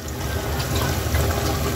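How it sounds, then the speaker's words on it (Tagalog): A little water poured into a pot of ginataang labong, bamboo shoots cooking with sardines, a short continuous splashing gush, close and fairly loud, with no talk. "So dadagdagan po natin siya ng kaunting tubig"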